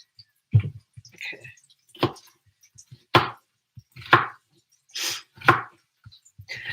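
Food being chopped on a cutting board during cooking, a series of sharp knife strikes in an irregular rhythm, close and fairly loud, with no voice.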